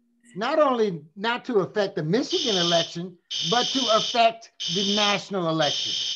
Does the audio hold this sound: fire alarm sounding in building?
yes